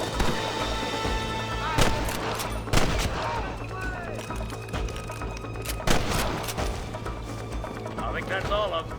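Gunfire in the video game Red Dead Redemption on PS5: a dense volley of sharp shots rings out, some loud and near and others softer, over a steady layer of game music and background voices.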